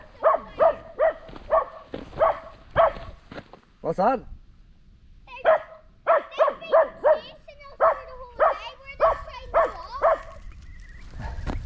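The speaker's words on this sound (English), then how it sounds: "Well, why is that barking now, that wee one?" A small dog barks repeatedly in quick bursts, close to the microphone, with pauses between volleys, while a person talks to it nearby, near a pier in County Donegal.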